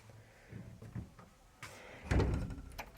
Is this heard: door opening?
yes